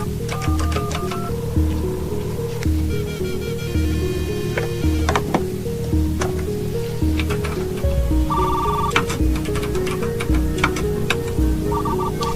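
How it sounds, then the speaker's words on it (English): In a film scene, a telephone dials into a school computer with a long run of electronic beeps and tones, mechanical clicks and ringing, steady and fairly loud throughout. "Dialing into the school's computer."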